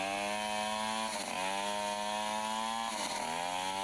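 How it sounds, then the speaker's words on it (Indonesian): A chainsaw engine drones at a steady high pitch, dipping briefly twice as the throttle eases off, heard from some distance. "Ini suara gergaji mesin guys."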